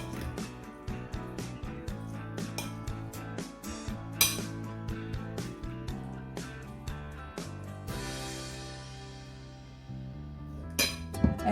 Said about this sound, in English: And then you just stir it up, mix it